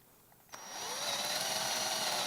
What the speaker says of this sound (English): So just drill 4 holes, one kind of by each corner. We do that with a 1/4-inch bit